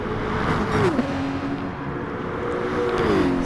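GT3 race cars, a Porsche and a Mercedes, in a racing video game: a steady engine drone with pitch sweeping down and back up as the cars shift and close in, continuous and fairly loud with no talk.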